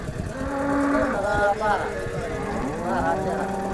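A cow at the Modnimb cattle market lows in a long, drawn-out moo, close and loud, amid steady crowd noise and people talking nearby.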